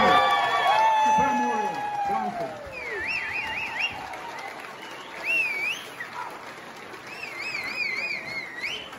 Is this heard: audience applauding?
yes